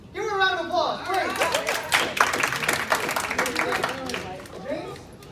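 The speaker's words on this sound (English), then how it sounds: "Give her a round of applause." Audience clapping for a volunteer called up on stage at a motivational magic show at a university, a moderate burst of applause mixed with voices talking over it throughout.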